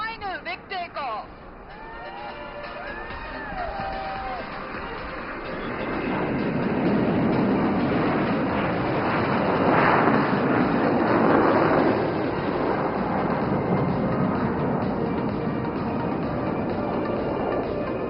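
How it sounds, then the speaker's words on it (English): A military aircraft takes off at the Aero India airshow at Yelahanka, a broad engine roar that builds after a short pause and holds loud and steady as it climbs away, while a commentator talks over it. "And here's the third and final big takeoff."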